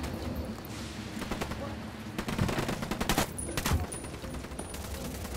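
Automatic gunfire in Ghost Recon Wildlands, a steady dense rattle of rapid shots with a few heavier bursts, loud and continuous throughout.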